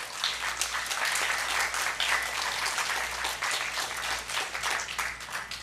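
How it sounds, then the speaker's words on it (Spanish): Concert audience clapping for the trumpet and trombone players at a children's educational concert, a continuous full wash of applause without voices. "Un aplauso para ellos, por favor."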